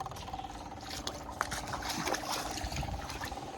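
Fuel trickles and gurgles into the filter housing of an M35 military truck, a soft continuous liquid flow with small splashes and bubbling, fairly close and quiet.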